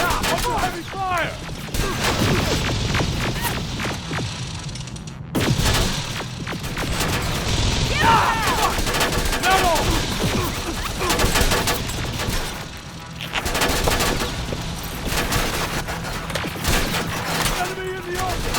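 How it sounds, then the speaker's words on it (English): Heavy, sustained gunfire rattles through a battle in the video game Terminator Resistance, dense bursts and booms overlapping almost nonstop at high volume, with occasional shouted callouts mixed in. "Running low on ammo! Under heavy fire!"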